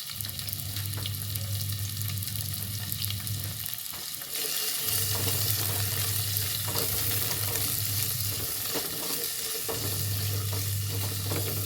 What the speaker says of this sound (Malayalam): ഒന്ന് വറുത്തെടുക്കുക ഒന്ന് നല്ലോണം വാട്ടിയെടുക്കണം